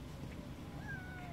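A cat meows once, a rising thin cry over a low background murmur, fairly faint and brief.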